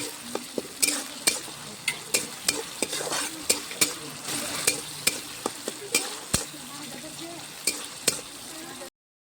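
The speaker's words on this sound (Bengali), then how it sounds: "বেশ লাল লাল করে মশলাটা ভাজতে হবে" A ginger, garlic and cumin spice paste fries in a pan for a village-style goat leg curry, sizzling steadily under a run of sharp, regular clinks as a spoon stirs and scrapes the metal pot.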